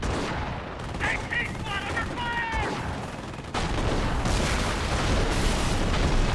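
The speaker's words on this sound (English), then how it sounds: "Nice walking Stuka barrage" A walking Stuka rocket barrage in Company of Heroes lands as a dense, continuous run of explosions and gunfire that gets louder halfway through, with brief whistling tones early on.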